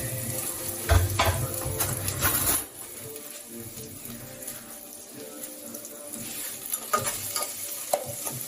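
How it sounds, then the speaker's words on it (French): Onions fry in a pan with a soft, steady sizzle, while stirring clatter and utensil knocks come through. A louder burst of scraping at the start gives way to quieter crackling. "On va laisser nos oignons dorer un peu avant de commencer par mettre les ingrédients"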